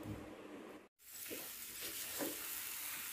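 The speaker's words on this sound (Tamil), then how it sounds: "சீனி ரவை எல்லாத்தையும் ஒன்றா நல்லா கிளறி விட்டுருங்க" Semolina and sugar for rava kesari are stirred together in a hot pan, giving a soft continuous sizzle with faint scraping strokes, broken by a brief silent gap early on.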